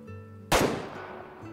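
One sharp, loud crack from an iron-sighted lever-action hunting rifle in Way of the Hunter. It rings out alone and then decays into a short, fading echo.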